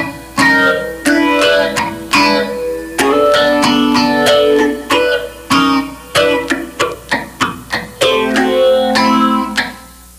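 A slow funk guitar chord vamp: clipped, rhythmic chord stabs and short muted strums ring out clearly and alone, with a little pickup at the end of the phrase.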